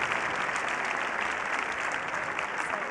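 At the 1998 Kral Music Awards ceremony in Turkey, a large audience applauds continuously, a dense, even roar of clapping hands heard from within the hall without any talk.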